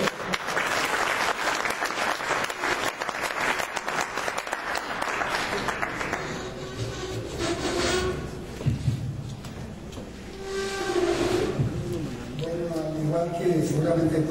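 Audience applause for a speaker at an education congress, steady dense clapping for about six seconds that fades into someone talking through the rest.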